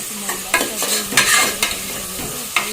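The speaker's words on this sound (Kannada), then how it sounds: "ಈರುಳ್ಳಿನ ನಾನು ಫ್ರೈ ಮಾಡ್ಕೊಂತ ಇದ್ದೀನಿ ಜಾಸ್ತಿ ಎಣ್ಣೆಯಲ್ಲಿ ಬ್ರೌನ್ ಕಲರ್ ಬರಬೇಕು ಅಲ್ಲಿವರೆಗೂ ಫ್ರೈ ಮಾಡಿ" Onions frying in plenty of oil until browned for an egg biryani, with a steady sizzle and a spoon scraping the pan in repeated strokes. The sound is close and loud, with no talking.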